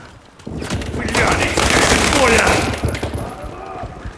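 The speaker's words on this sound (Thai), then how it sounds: "ใครยิงวะ" Gunfire in the video game World War 3, a dense burst of rapid automatic shots rising to a loud sustained fusillade and then tapering off, with a voice talking over it.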